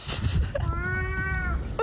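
A person's voice imitates a cat, giving one drawn-out, nasal meow that rises and then holds for about a second. A brief vocal sound comes before it, and background chatter and noise run underneath.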